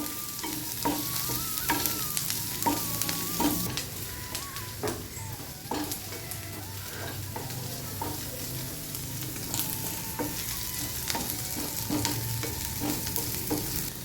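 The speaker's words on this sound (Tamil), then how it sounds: "இது நல்லா சூடாக இருக்கிறதுனால தான் நான் இப்போ சேர்த்துருக்கேன் நான் இதிலே நல்லா பொறிஞ்சிடும் ஜீரகம்" Cumin seeds crackle and sizzle steadily in hot oil for potato kurma, with repeated scraping and stirring from a utensil in the pan.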